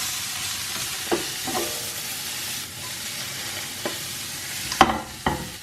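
Breakfast ingredients for a bagel burger frying in plenty of butter in a pan, a soft steady sizzle broken by several stirring scrapes and clacks, louder near the end.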